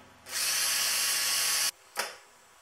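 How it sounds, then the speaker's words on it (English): A power drill whirs steadily for over a second at a high-pitched whine, stops, then gives one short burst. "we want to just drill an access hole in each of the 4 corners"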